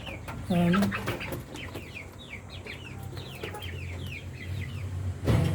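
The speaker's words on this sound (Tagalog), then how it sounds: "ito yung mga breeder natin, Rhode Island" Rhode Island Red breeder chickens cluck and chatter close by in a farm pen, a busy string of short calls with a louder rooster-like call near the start and end.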